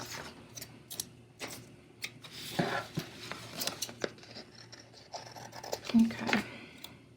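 Scissors snip through a sheet of stickers at close range, a few crisp cuts mixed with paper rustling and handling noises on a quiet desk.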